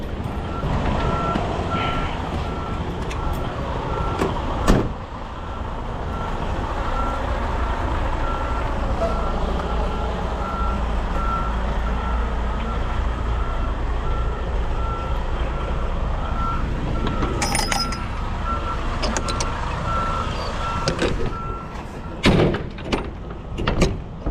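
A truck door closes with a solid thud at a parked truck, under a loud, continuous reversing-beep alarm and rumbling vehicle noise, with another knock or slam near the end.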